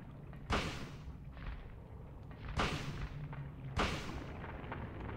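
Gunshots in the Silent Hill video game: three heavy booming reports land at irregular intervals, each decaying into a low rumble over a steady dull background hum.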